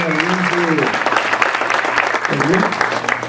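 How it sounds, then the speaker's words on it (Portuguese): A church congregation claps steadily through a Sunday worship service, a loud, even wash of applause, with a speaking voice heard briefly at the start and again near the end. "Vamos aplaudir o Senhor pela vida da nossa irmã."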